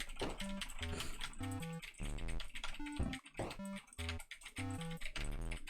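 Rapid keystrokes clatter on a computer keyboard during a video game, a steady run of crisp clicks close to the mic over a backdrop of bright musical game tones, with no voices.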